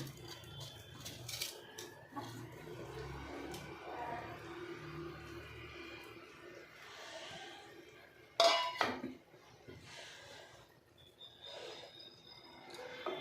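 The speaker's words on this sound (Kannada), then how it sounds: "ಇದರಲ್ಲಿ ನಾನು ನೆನೆಸಿಟ್ಕೊಂಡಿರೋ ಅಕ್ಕಿನ ಹಾಕ್ಕೊತಾ ಇದ್ದೀನಿ" Soaked rice goes into a cooking pot for palak methi matar pulao with a few soft pours and clinks of a utensil against metal. A louder scrape or clatter comes partway through, then quieter stirring noises.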